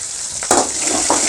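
Ginger and garlic sizzle steadily in hot oil with the fennel seeds, a close, continuous hiss that swells briefly as the pieces are stirred.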